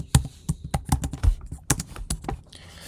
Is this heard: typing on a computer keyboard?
yes